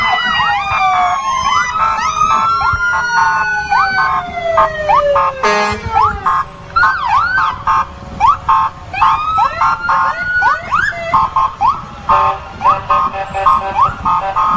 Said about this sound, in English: We're trying to talk over the siren just pretty hard.